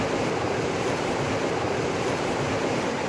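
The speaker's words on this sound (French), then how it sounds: "L'eau est apparue, l'eau a déjà descendu." Water moving in a canal lock: a steady, dense rushing and churning of flowing water, loud and continuous without pause, with no voices.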